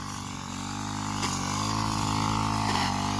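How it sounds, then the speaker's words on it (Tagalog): A grass cutter engine drones loudly and continuously nearby, with a couple of brief hiccups in its otherwise steady buzzing note. "Bakit parang palaktaw-laktaw yung grass cutter mo?"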